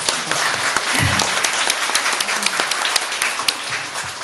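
An audience at a Korean Q&A event applauds a producer, a loud sustained burst of many hands clapping with sharp individual claps standing out.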